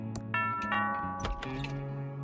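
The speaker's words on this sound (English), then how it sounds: "That sounds like the doorbell." A doorbell in the point-and-click adventure game Thimbleweed Park chimes a short run of ringing tones over soft in-game background sounds, close and clear for about two seconds.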